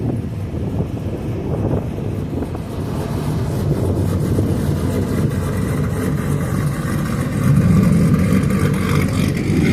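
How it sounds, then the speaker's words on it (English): Pickup truck engines idling and revving at an outdoor truck show, a steady low rumble that builds louder toward the end, with wind buffeting the microphone throughout. "Cool truck sounds for you again?"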